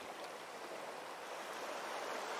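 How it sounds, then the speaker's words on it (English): Ocean waves washing against a Hawaiian shore, a soft, continuous broadband wash of surf heard at a distance, quiet and even throughout with no voices. "The sound of the waves crashing against the shore fills your ears"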